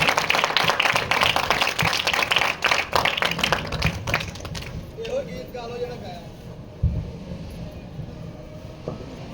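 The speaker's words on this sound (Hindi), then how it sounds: "आपकी जोरदार ताली के साथ, ताली बहुत कम है, बहुत जोर से जाइएगा" A church congregation applauding, dense loud clapping that thins and fades after a few seconds, followed by quieter voices and a sustained tone.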